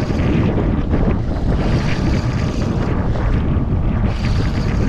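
Strong wind roars steadily and loudly across a fishing boat out at sea off Cherating while squid jigging, a dense, unbroken rush of air buffeting the microphone with no voices.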